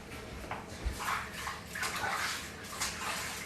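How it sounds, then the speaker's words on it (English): Tap water runs as hands are washed at a home kitchen sink, a quiet continuous splashing stream with soft irregular surges and one brief low thump. "I'm just going to wash my hands."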